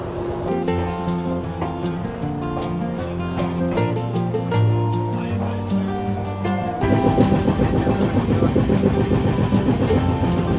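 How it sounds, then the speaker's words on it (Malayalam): A train pulls away from a station on the Bangalore to Pune route, with a loud, steady mechanical drone and rumble that grows fuller and heavier partway through as it gathers speed. "യെസ്, ട്രെയിൻ എടുത്തു."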